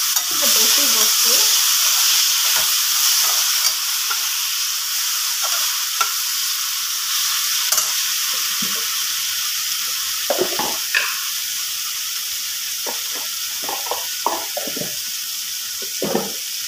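Garlic and onion paste with turmeric sizzles steadily in hot oil for a village-style taro shoot curry, with a constant loud hiss broken by repeated scraping and knocking of the stirring spoon.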